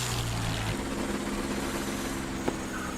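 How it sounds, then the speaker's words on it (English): Aircraft engine in the DCS flight simulator game, a steady droning hum with a tone that shifts partway through and a brief click near the end, running alone without talk. "I don't know if it's like this engine sound is cutting in and out"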